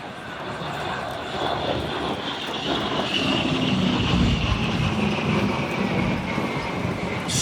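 A fixed-wing airplane flies past at the MCAS Miramar air show, its engine roar loud and sustained, swelling slightly toward the middle as it passes near, with no voices heard.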